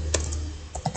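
A computer keyboard clatters with a few quick keystrokes while Discord.py bot code is entered, close and crisp, in a short burst with no talking.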